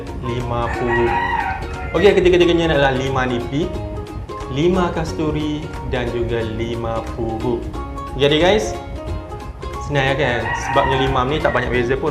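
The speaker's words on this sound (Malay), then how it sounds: "Bunyi ayam tu bunyi ayam kat luar" A rooster crowing outdoors in a village, its long cock-a-doodle-doo calls rising and falling a few times over several seconds, heard beneath a person talking steadily nearby.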